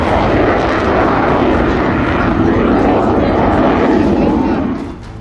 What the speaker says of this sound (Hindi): फ्रांस से मिले इस फाइटर जेट राफेल का ये प्रदर्शन राजस्थान के जोधपुर में हो रहा है